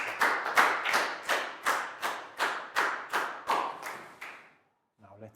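Classroom applause in a Year 4 lesson, a run of about eleven evenly spaced loud claps in a steady rhythm that fades out, then a brief voice at the end.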